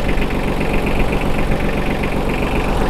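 A Yanmar F155 mini tractor's engine runs at close range with a loud, steady, rough low chugging and knocking rhythm, continuous and with no speech.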